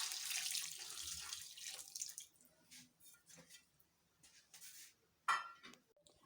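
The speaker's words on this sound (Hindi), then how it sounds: "1 कप चावलों का पानी जिसमें हमने चावलों को बॉईल किया था वो इसमें" Water left from boiling rice is poured into a pot of marinated chicken for Hyderabadi chicken dum biryani, a close steady splashing pour for about two seconds, followed by soft drips and a few light clinks.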